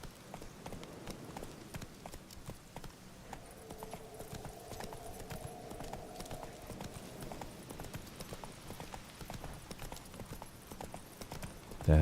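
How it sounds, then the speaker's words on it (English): Hooves of Geralt's horse in The Witcher 3 beat a rapid, continuous galloping rhythm throughout, with a light rain-like patter mixed in and a faint tonal hum in the middle, no talk. "Geralt, get on the horse."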